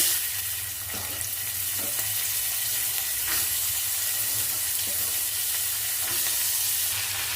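Curry leaves and field beans tossed into a hot pan for an avarekalu usli, frying with a steady bright sizzle and occasional stirring scrapes, close and continuous, no talking.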